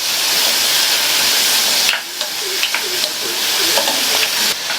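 Onion, garlic and slit green chillies sautéing in hot oil in a pan for a radish curry, a steady close sizzle with a few soft stirring scrapes and clinks partway through.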